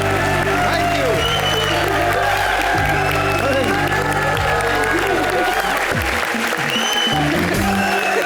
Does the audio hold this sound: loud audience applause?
yes